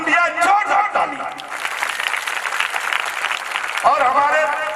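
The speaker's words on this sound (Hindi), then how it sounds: "जोरदार ताली" Loud, dense applause from the audience at a Shrimad Bhagavat Katha religious gathering swells for a couple of seconds between stretches of someone speaking into a microphone.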